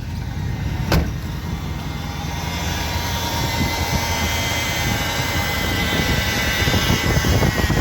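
A 1965 Ford Thunderbird V8 fires right up with a sharp start and settles into a loud, steady idle that holds without a break, with no voices over it.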